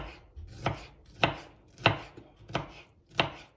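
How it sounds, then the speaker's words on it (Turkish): A knife chops large red tomatoes on a cutting board, landing five sharp, evenly spaced thuds over a few seconds. They are close, distinct and clear, with no talk. "şöyle domateslerini de bu şekilde doğruyorum"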